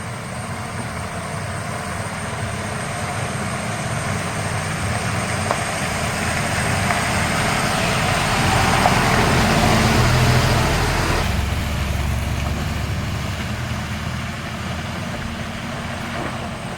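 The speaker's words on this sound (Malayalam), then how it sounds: "tipper lorry വരുന്നുണ്ടേ" A tipper lorry carrying quarry stone labours along a potholed, rough village road, its heavy engine drone swelling as it nears, peaking close by, then dropping off and fading.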